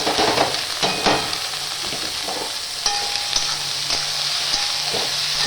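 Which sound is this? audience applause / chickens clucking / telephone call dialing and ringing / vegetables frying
vegetables frying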